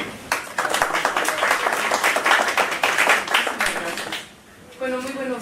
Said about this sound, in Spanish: Así que brindámosle un aplauso, por favor